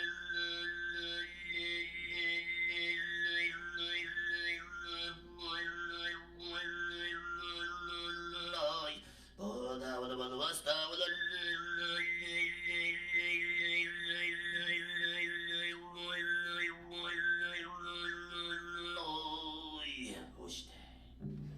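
Mongolian throat singing mimics a running horse, a strong drone with whistling overtone melodies on top, galloping in rhythmic pulses with a brief pause midway and continuing to the end; close and alone, with no talking.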